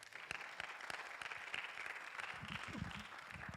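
Loud, sustained applause from a church congregation, dense clapping filling the space throughout with a few sharper claps standing out near the end.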